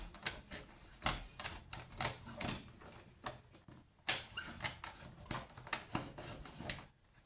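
Scissors cut slowly through paper for a Halloween scrapbook page, giving close, crisp snipping and scraping in uneven bursts, with two sharper clicks standing out and no talking.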